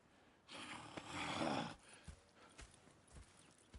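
Horse hooves clip-clopping in the video game Red Dead Redemption 2, a burst of busy hoof and movement noise early on, then a few scattered, softer hoof knocks alone.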